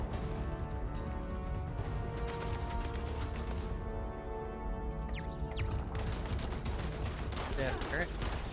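Turret gunfire in the space game Starfield: loud, dense, continuous rapid bursts of shots with mechanical clatter and crashing impacts, sustained throughout with barely a pause.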